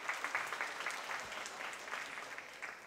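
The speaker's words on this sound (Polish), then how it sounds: "Gorące brawa, drodzy Państwo." An audience at a children's dance group performance gives warm applause. The clapping is moderately faint and crowd-like, a dense patter of many hands that holds steady and then starts to taper, with no talk over it.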